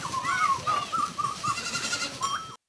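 Goats on a farm with 500 goats bleat in a steady stream of overlapping wavering cries, several animals calling close and loud against a busy barn background, with no talk.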